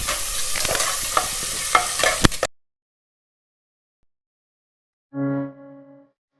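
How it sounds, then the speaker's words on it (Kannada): Mutton frying in a pan for sambar, sizzling steadily while a spoon scrapes and stirs with several sharp clacks, then cutting off abruptly into silence before a brief tone. "ಫ್ರೈ ಮಾಡ್ಕೊಳ್ಳೋಣ."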